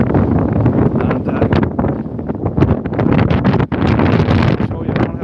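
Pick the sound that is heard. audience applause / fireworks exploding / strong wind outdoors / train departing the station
strong wind outdoors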